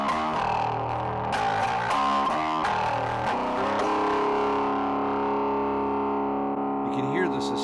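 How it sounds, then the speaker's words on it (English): Bass guitar played through the distortion channel of a Suncoast Nanolab bass preamp, a gritty sustained tone with several picked notes early on that ring out and slowly fade, loud and close, with no talking. "Now I'm going to flip over to just the red channel. Here's just the distortion."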